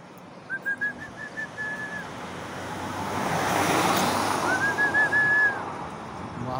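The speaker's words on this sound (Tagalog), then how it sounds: "May hangin dito sa labas," Wind blows steadily outdoors, swelling to a louder gust midway, with faint whistling bird calls near the start and end.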